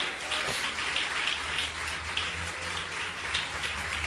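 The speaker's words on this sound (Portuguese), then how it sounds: "Vamos aplaudir o Senhor Jesus." A church congregation claps together in steady, dense applause that stays loud and even throughout, with no voices rising above it.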